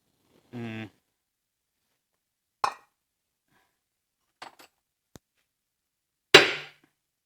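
A hammer strikes a rusted-in part on a Citroën C5 during gearbox work, giving about four sharp, separate metallic knocks spread over several seconds, after a brief voice at the start.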